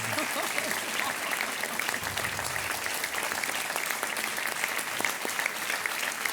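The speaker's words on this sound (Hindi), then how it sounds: "तालियां बजती रहे देवी और सज्जनों।" Studio audience of a televised Hindi quiz show applauding a contestant's win, dense continuous clapping from many hands filling the room at an even level throughout.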